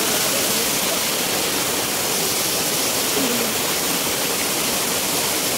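A mountain waterfall at a resort in Burauen, Leyte, roars as steady, loud, broadband rushing water, constant throughout with no breaks.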